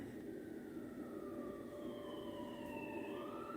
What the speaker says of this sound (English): There's a police siren.